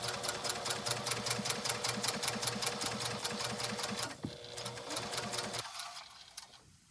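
Sewing machine running steadily at a fast, even stitching rhythm while sewing lineless diagonal seams with the needle down, close and loud, then stopping abruptly near the end.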